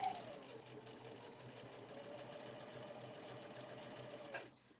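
A sewing machine runs steadily while stitching along the top edge of fabric for a dog bandana, giving a quiet, even whirring hum up close that stops abruptly at the end.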